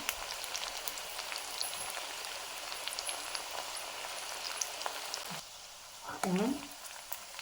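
Onions, green chillies and curry leaves frying in oil in a home kitchen pan, a dense close crackling sizzle that suddenly drops quieter near the end, followed by a brief voice.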